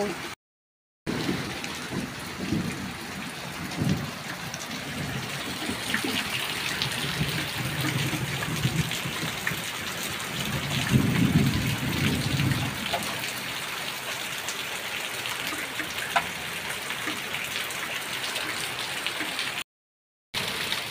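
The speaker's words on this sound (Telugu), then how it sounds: "వర్షం అయితే ఫుల్ పడుతుంది, మా ఇంట్లో వరకు వస్తుంది" Heavy evening rain pours down steadily outside a house during a thunderstorm, a dense continuous hiss lasting the whole stretch, with a low rumble swelling briefly midway; no voices.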